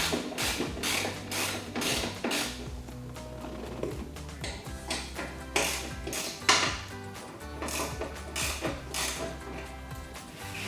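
Metal bolts on the rear bracket of a Jeep Wrangler TJ side step bar being snugged up with a ratchet, giving quick repeated clicking bursts with occasional clanks and metallic taps, close up.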